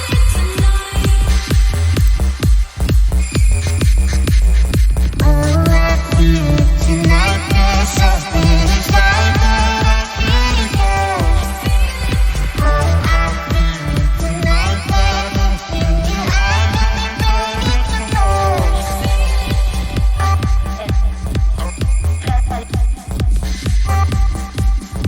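A dense, driving electronic acid track in psytrance style plays continuously and loudly, with a pounding fast beat and squelchy synth lines layered throughout, no talking.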